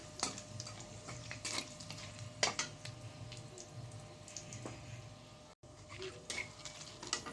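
Chopped onions fried in a pan for a mutton and potato curry, a low steady sizzle with occasional clinks and stirring knocks, close and quiet, without speech.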